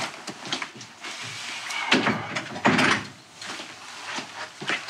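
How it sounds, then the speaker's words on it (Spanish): A door is shut indoors in a house, with several knocks and thuds of handling before and after the close, moderately loud and near, with no talk over it. "Cierra la puerta."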